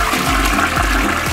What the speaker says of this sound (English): Flushing time!